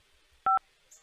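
A single short phone keypad beep sounds once in a quiet line, followed by a faint click.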